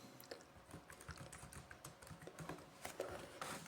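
Quiet, rapid keystrokes tap on a computer keyboard as JavaScript code is typed, with irregular clicks close by and no speech.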